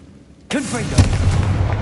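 Confringo blasting spell from Hogwarts Legacy bursts suddenly after a quiet moment, a sharp magical blast followed by a rumbling, crackling fiery tail with a second heavier thud, loud and close, no talking over it.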